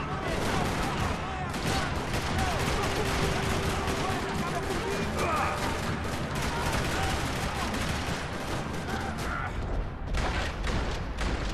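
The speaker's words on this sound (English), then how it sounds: "Another parking lot rattling with gunfire." Dense, continuous gunfire fills a parking lot in the Max Payne 3 video game, with overlapping rapid bursts and heavy reports sustained throughout under a constant loud din.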